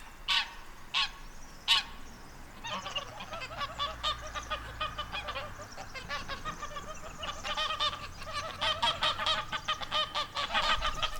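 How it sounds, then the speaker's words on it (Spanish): Domestic geese on a farm honk as they wait to be fed. Several loud, close honks open, then a dense, overlapping chorus of rapid calls continues without a break. "También vengo a dar de comer a las ocas,"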